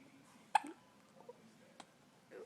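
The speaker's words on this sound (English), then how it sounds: "You got the hiccups." A baby's small hiccups, a sharp one near the start and a fainter one later, quiet and close with soft babbling or breathing between them.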